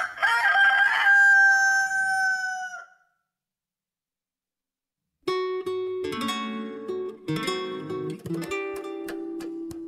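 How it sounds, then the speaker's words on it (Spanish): A rooster, just set free, crows once, loud and close: a long, bright, drawn-out cry lasting about three seconds. Silence follows, then a stretch of plucked musical tones. "El gallo, ya libre, estiró sus cansados miembros, agitó las alas y cantó."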